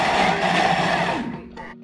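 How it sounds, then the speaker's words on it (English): A blender whirs loudly through fish cake paste in a short, steady burst, then winds down and cuts off. "let's blend it a little bit"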